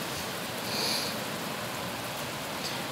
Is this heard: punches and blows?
no